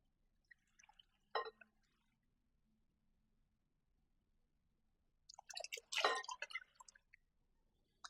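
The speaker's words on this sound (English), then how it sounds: "Now I'm going to add 4 cups of water." Two brief bursts of water being poured into a pot for hominy corn porridge, a short splash followed by a longer, louder pour-like gush, close by with quiet between.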